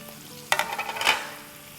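Chopped tomato drops into a hot pan with bell pepper and starts sautéing, a sudden close sizzle that flares briefly and then eases into a softer hiss.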